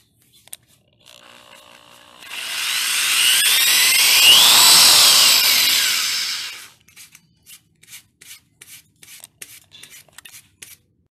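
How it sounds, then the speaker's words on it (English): A drill bores a hole into the wooden frame of a patio chair, a loud, steady whining grind lasting a few seconds, followed by a series of short scraping clicks and taps. "Now I'm going to drill the hole on the other side."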